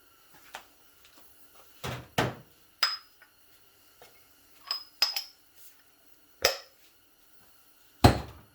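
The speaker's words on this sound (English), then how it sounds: "Let me grab a driver." A hammer taps a seal driver into a Ford C6 automatic transmission in a workshop, giving sharp metallic knocks spaced irregularly, several loud and some faint, with quiet gaps between.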